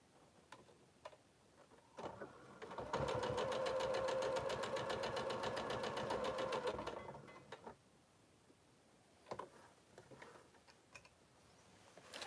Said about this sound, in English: you're going to stitch this section on here